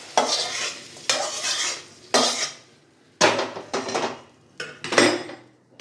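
A utensil scrapes and stirs vegetable fried rice in a metal pan, with six sharp strokes each fading off, a faint sizzle between them, close and loud.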